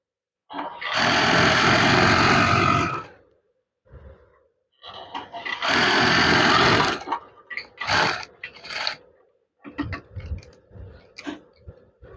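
Sewing machine stitching the folded hem of a curtain valance, with two long steady runs of rapid mechanical whirring, then shorter bursts and ticking stops, close and loud with no talking.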